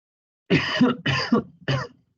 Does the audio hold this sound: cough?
yes